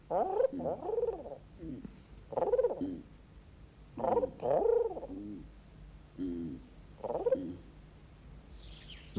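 A carrier pigeon coos in repeated low, rounded phrases, several throaty calls with short pauses between them, close and clear against a quiet background.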